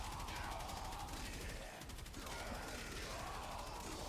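Reconifex weapon in Warframe firing continuously, a faint, steady rapid stream of energy shots with a brief dip midway, distant and low in level.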